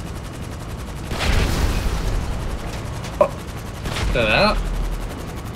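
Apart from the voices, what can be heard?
gunfire in the video game GTA Online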